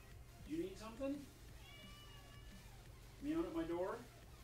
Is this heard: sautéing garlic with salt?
no